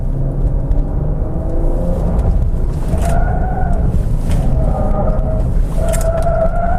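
A 2015 Jeep in sport mode rumbles through a slalom test, engine droning low and steady with faint tonal whines rising and falling as it weaves, heard from inside the cabin.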